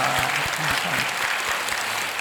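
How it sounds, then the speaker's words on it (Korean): A church congregation claps together in praise at a dawn prayer service, loud sustained applause from many hands with a low rhythmic beat running underneath, continuous for the whole stretch. "우리 하나님께 한번 박수로 영광을 올려드립니다."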